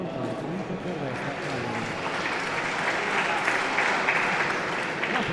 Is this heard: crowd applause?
yes